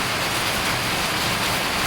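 Heavy rain pours down steadily, a dense, even hiss of water that stays loud and unbroken throughout, with no voices over it.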